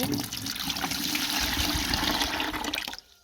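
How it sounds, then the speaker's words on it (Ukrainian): Water pours steadily into a bucket for about three seconds, a full splashing gush of about a litre that cuts off abruptly at the end. "Тепер набираю літр води"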